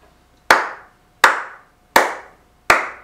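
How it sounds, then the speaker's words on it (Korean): Four crisp, loud hand claps come at an even, measured pace, each sharp and separated by clear silence, with no talking. "대한민국의 미래를 위해 직접 미투 당하신 위대한 정치인 안희정 전 지사님께 박수 한번 치고 가겠습니다."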